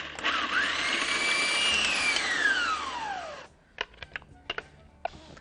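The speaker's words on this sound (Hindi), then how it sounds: "इसे हम ब्लेंडर के अंदर डाल के ब्लेंड कर लेते हैं।" An electric blender whirs loudly as it blends cooked ingredients, its motor pitch sliding downward as the mixture thickens, then cuts off, leaving a few light clicks and knocks.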